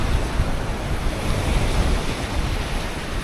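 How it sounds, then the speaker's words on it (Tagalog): Pacific Ocean surf crashing on the coast, a steady loud broadband roar of breaking waves with wind buffeting the microphone throughout, no voices. "Wild yung ocean ngayon. Pacific Coast kasi ito eh."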